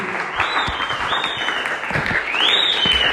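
A church congregation applauds and cheers in praise, steady dense clapping with rising cheers and a shout near the end, loud and continuous throughout.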